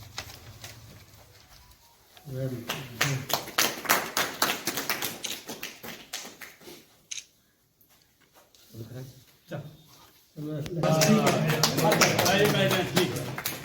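People clapping at a Sadguru Kabir Sabha gathering that elected its new president and general secretary, with bursts of dense close hand claps that stop and start again, amid people talking.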